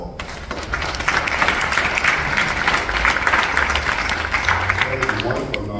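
A panel audience breaks into loud, sustained applause, thick clapping that fills the room, with some low thumps and murmuring voices beneath it.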